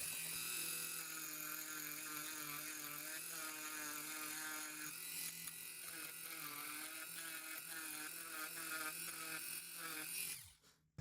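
A rotary tool spinning at about 15,000 RPM grinds the lock bar of an OK-223 knife, a steady high-pitched whine that rises and falls slightly in pitch as it bites, close and continuous, then winds down at the end.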